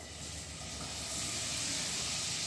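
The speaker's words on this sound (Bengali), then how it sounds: "এই পনিরগুলো প্রথমে আমি কড়াইতে দিয়ে দিচ্ছি।" Paneer cubes frying in butter in a kadai make a dense, continuous close-up hiss that swells slightly and holds steady throughout.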